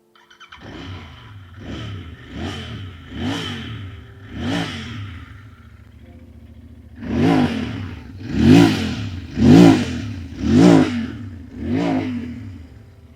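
A Royal Enfield Interceptor 650 motorcycle engine revs repeatedly, each blip of the throttle rising and falling in a throaty exhaust note, louder and sharper in the second half.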